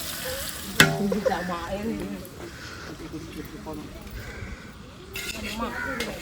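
A large pot of biryani for a traditional wedding feast is stirred with steady scraping and sizzling, plus a sharp clang near the start, while several people talk loudly nearby throughout.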